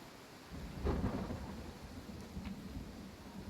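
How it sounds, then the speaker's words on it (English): Rain with a low thunder rumble in the fantasy role-playing game Pathfinder: Kingmaker, a steady downpour hiss swelling as a rolling roll of thunder builds near the start and fades, with no voices. "it's just rain."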